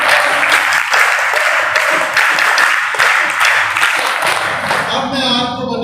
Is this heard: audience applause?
yes